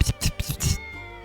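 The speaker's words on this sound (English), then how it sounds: "It's a cat!" A cat in the video game Triangle Strategy gives four short, close meows in quick succession, followed by a faint sustained tone.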